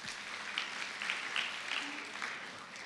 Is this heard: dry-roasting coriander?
no